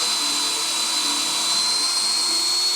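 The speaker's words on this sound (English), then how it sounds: "I'll go ahead and drill a hole into it" Power drill boring a hole into a thick wood slab beside a container lumber kiln, a steady loud high whine of the bit cutting wood, continuous and close with no break.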